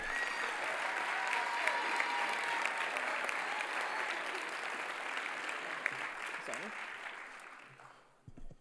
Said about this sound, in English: let's give one big last round of applause for all our athletes